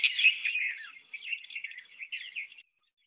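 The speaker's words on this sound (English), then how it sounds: "These birds are communally having a sandbath" Birds communally taking a sand bath give a run of high chirps and twittering calls, close and clear over silence, fading out after a couple of seconds.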